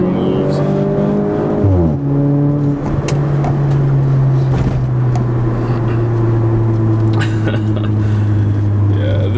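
An Audi A4 B8 fitted with a Racechip GTS tuning box accelerates hard, the engine note dipping at a gear change and then pulling up steadily in a loud, continuous cabin-heard roar.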